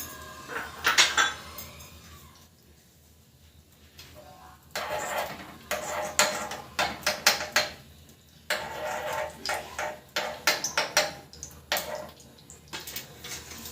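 A metal spoon clinks and scrapes in a tadka pan with desi cow ghee over a gas flame, in bursts of sharp clattering separated by quieter pauses.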